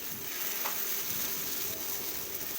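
Continuous even sizzle of pancake batter frying in oil on a hot iron griddle, a steady close-up hiss with faint crackles and no voices.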